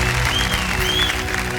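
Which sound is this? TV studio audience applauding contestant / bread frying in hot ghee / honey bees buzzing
TV studio audience applauding contestant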